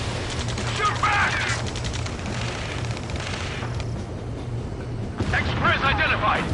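Rapid gunfire in the Ace Combat 7 video game rattles continuously under shouted voices, with denser bursts near the start and end.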